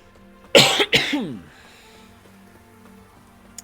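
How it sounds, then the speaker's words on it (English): A person with a slight cold coughs twice in quick succession, close and loud, then the sound fades to quiet room tone. "there might be some coughing here and there"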